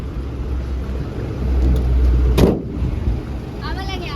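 Road traffic on a congested route near Torna Fort in the Sahyadri hills, heard beside a stopped car: a steady low engine rumble with a vehicle swelling past midway, and people talking nearby.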